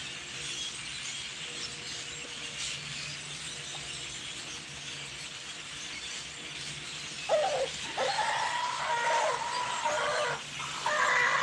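Chickens in a backyard flock cluck and call at a steady, moderate level against outdoor ambience, with the sound growing a bit louder and busier toward the end.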